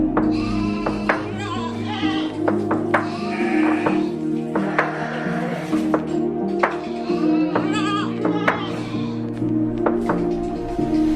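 Dorper sheep on an Indonesian goat and sheep farm bleat repeatedly, several animals calling close by in overlapping, irregular cries, with a few knocks and thumps from the pen underneath.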